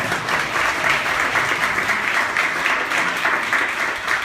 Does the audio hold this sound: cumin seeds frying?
no